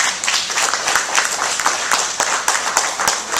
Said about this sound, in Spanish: Dieron un aplauso al Señor.